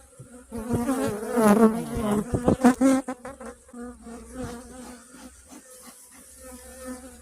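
Honey bees buzz loudly and close around an open hive holding a few kilos of honey, a dense droning swarm that peaks early and then settles into a steadier, softer hum.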